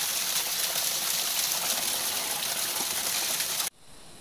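Water flowing from a small waterfall outdoors, a steady close rushing and gushing that continues evenly, then cuts abruptly to a quieter flow near the end.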